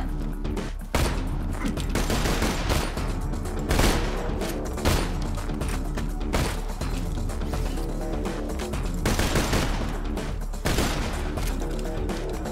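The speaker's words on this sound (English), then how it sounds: "I'm gonna fucking shoot it with my gun" A player's gun firing in Borderlands 2, a dense unbroken barrage of shots layered with game effects, loud and continuous throughout with a few stronger cracks standing out.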